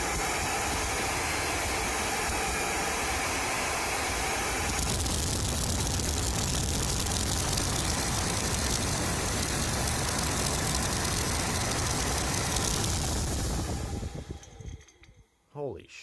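A bench-tested electric turbo for a Camaro project running at low throttle: a steady, loud whirring roar that rises a few seconds in, holds, then cuts off near the end.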